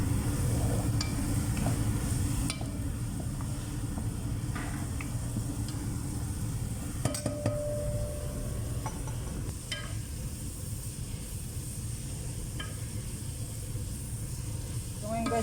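Sliced ampalaya (bitter melon) sizzling in a pan with browned garlic and onion, a steady loud frying hiss running throughout with occasional stirring scrapes and clinks.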